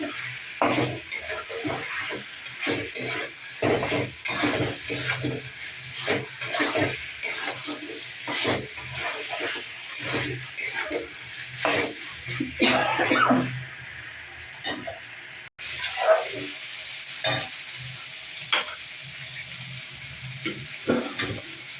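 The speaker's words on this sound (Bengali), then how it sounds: "মশলাটা পুরো কষানো, মাংসটা দিয়ে কষাবো" Chicken fried with a thoroughly cooked spice paste in a pan, a steady sizzle broken by frequent scraping and knocking strokes of a spatula, close and moderately loud, with a brief cut midway.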